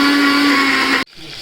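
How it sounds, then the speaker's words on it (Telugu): A kitchen mixer grinder runs loud and steady, blending drumstick leaf chutney with a little water, its motor whine holding for about a second before cutting off abruptly, leaving faint room noise. "కష్టపడి గ్రైండ్ చేసుకోండి"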